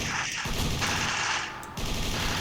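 Rapid pistol gunfire from a stun pistol in Roblox Zombie Tower, a dense, continuous burst of loud shots with a brief dip near the end.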